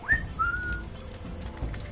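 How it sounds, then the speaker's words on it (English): Character whistling in a PS4 video game: a quick rising whistle note followed by a longer steady tone, brief and clear over low game background noise. "You know, you can do a little bit of whistling."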